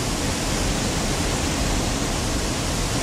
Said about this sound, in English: we're down here by a waterfall